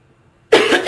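A single sharp, loud cough from a man during an indoor business software training session, abrupt after near silence.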